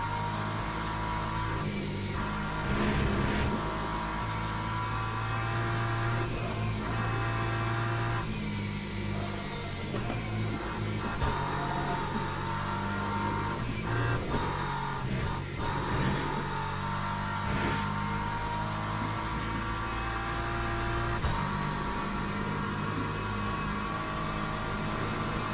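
Race car engine in Le Mans Ultimate, driven on cold tyres: a steady, droning engine note that holds at a fairly constant pitch, with slight shifts in revs throughout.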